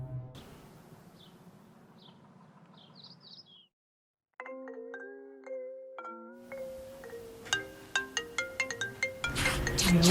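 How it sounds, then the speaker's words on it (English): A phone ringtone in a simulated schizophrenic hallucination soundscape: faint chirpy bird-like tones give way to a brief silence, then a bright, melodic ringtone that grows louder and more insistent as it repeats. "Ah, the phone woke you up."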